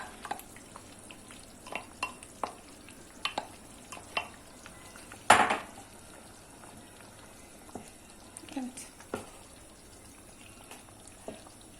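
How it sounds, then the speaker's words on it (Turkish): A spoon stirs garlic through a cucumber pickle sauce in a pot with a run of light, irregular scrapes and clicks. One sharper clatter against the pot stands out midway, all close-up and quiet with no talking. "Siz bu arada sarımsağımızı da karıştırabiliriz."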